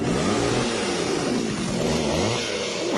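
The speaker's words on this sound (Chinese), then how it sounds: "摩托车的声音" A motorcycle engine revs continuously and loudly at close range, its droning pitch rising and falling, played as a sound to identify in a children's guessing game.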